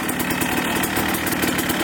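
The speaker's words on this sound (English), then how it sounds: "So it's in gear right now, and then just give it a little gas." A dirt bike engine running in gear with a little throttle, giving a steady, loud, continuous buzzing drone close by, with no voices over it.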